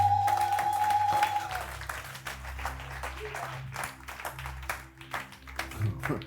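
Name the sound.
congregation applauding and acclaiming the Lord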